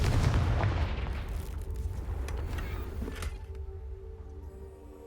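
The Confringo fire spell in Hogwarts Legacy goes off as a loud booming blast that rumbles and slowly fades over several seconds, with a few crackling hits along the way.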